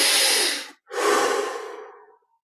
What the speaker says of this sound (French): 20 respirations profondes.